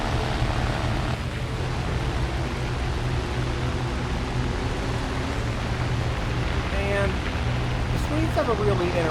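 A Fokker, a hand-me-down World War II fighter, flies in a dogfighting video game. Its engine drones steadily under a constant rush of wind noise, with a few faint chirping tones near the end.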